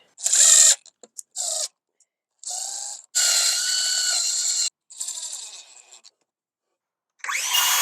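A power tool cuts wooden boards in half in short, loud bursts separated by pauses, with a high whining buzz during each pass.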